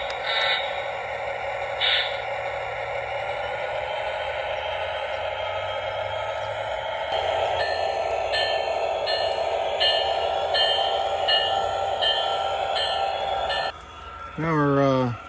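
Model railroad train making a reverse shove on a winter layout with the caboose leading, a steady running rumble and rail clatter throughout, with faint clicks and a brief louder burst near the end.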